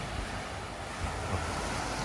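Ocean waves wash onto a rough beach beside a hotel on Camiguin in the Philippines, a steady broadband roar with wind buffeting the microphone.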